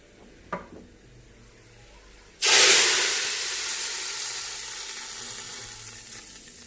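After a quiet moment and a small clink, a sudden loud sizzle bursts out as hot garlic tempering hits cooked lentils, slowly fading into a steady hiss.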